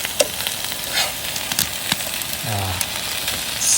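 Stir fry sizzling in a pan at a campsite, a crackly steady hiss with sharp pops and a short scraping stir, loud and close.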